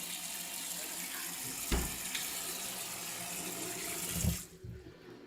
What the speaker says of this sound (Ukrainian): Це гаряча вода зараз.